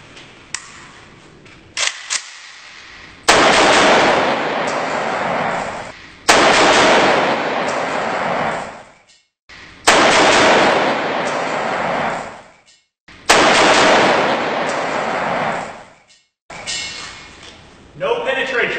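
An AK-47 rifle fires four long, loud automatic bursts, each lasting about three seconds and separated by short pauses, at a bulletproof Audi Quattro.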